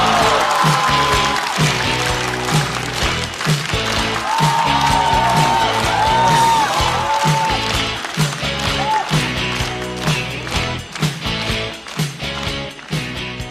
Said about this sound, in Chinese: 掌声欢迎李玟